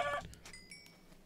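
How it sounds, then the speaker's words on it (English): Chickens clucking in Minecraft: a short burst of blocky clucks at the start, followed by faint game tones, with no talking. "kill these little chickens"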